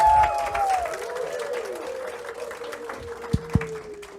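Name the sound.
audience applause for Yolandi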